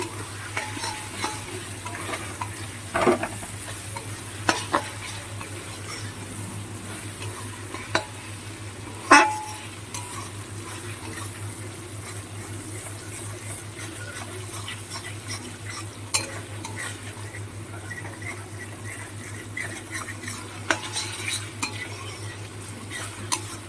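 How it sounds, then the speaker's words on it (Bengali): Steady frying of mutton liver and onions in a pan with a constant hiss, a low hum underneath and occasional clinks and scrapes of stirring. No talking. "এবার মেটেটাকে সুন্দর করে ভেজে নেবো"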